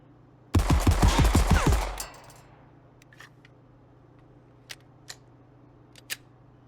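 Rapid burst of hip-fired automatic gunfire in the shooter game Marauders, a dense loud volley of about ten shots lasting over a second, then a decaying tail and a few faint clicks and taps.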